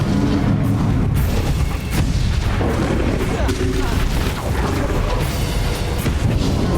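Repeated spell explosions from the Hogwarts Legacy final boss fight, dense booming blasts and crashes that run continuously and loudly, layered with game effects and chaotic combat noise throughout.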